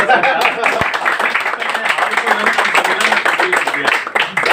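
Clapping rings out at a Hindi poetry gathering held as a memorial, a dense patter of hands from a small seated audience, with voices talking over it.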